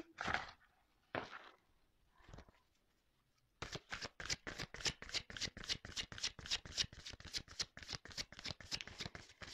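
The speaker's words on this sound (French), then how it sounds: "On va prendre d'autres cartes" Tarot cards are shuffled close up: a few separate slides and rustles first, then a fast, even run of crisp card flicks that continues to the end without talk.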